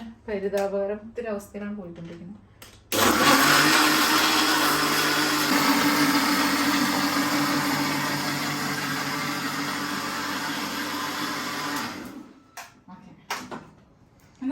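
A mixer grinder blends mehndi paste with a loud, steady whirring roar of about nine seconds, with people talking just before it starts and after it stops.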